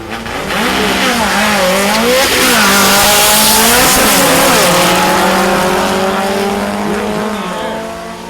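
A baby blue Volkswagen Beetle with center stripes drag races at Mason Dixon Dragway during the VW Nationals, its engine roaring loud and close with repeated rising rev sweeps and gear changes over about eight seconds, with no talk.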